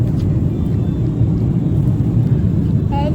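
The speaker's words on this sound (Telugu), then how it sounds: "Flight mummy, flight." A flight passing overhead on a trip to Niagara Falls in the USA, a steady loud low rumble and whir throughout, with a brief high tone near the end.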